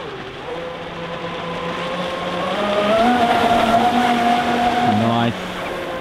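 A small high-pitched RC speedboat motor whines steadily, rising in pitch as it speeds up, then cuts back abruptly near the end.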